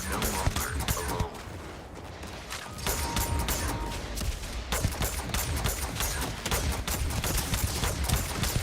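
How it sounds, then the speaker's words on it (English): Grenade blast during Starfield sci-fi combat, landing amid a loud, busy firefight with rapid gunfire cracks, a short lull, then more dense bursts of shooting and impacts. "That's a grenade."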